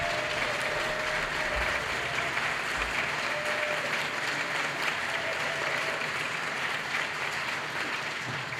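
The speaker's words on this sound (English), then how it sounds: "Could we please give these amazing people a round of applause?" A concert audience gives a steady, dense round of applause, a constant wash of many hands clapping throughout, with no talk.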